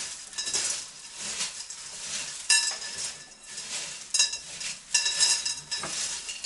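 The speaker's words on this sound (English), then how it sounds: "transfer some of the perlite into this mixture. Let's give that a mix" Perlite being stirred into a potting soil mixture in a container for a Philodendron billietae, with steady gritty scraping and rustling and a few sharper scrapes, close up and with no talking.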